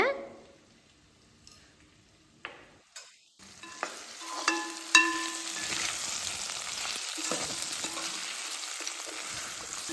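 Sliced raw banana with turmeric sizzles in a hot pan after a few clattering stirs, the frying hiss growing steady and continuous.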